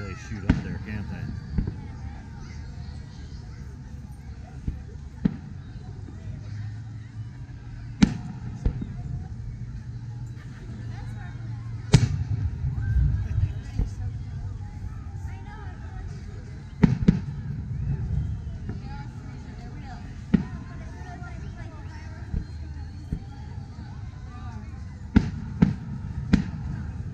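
The 2018 fireworks show at Coeur d'Alene Resort booms and cracks at irregular intervals, outdoor thuds rolling over a steady murmur of spectators chatting nearby.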